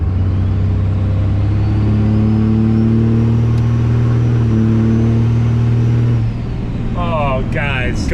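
A 1000HP Cummins diesel truck accelerating hard, a loud close engine drone rising steadily in pitch before easing off, with a voice talking near the end.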